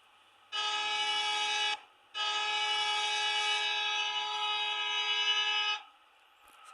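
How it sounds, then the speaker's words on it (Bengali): A bus horn in the video game Bus Simulator Bangladesh sounds twice, a short blast followed by a much longer sustained one, loud, clear and tonal against near silence. "এবার আমরা দুটো হর্ন দিব।"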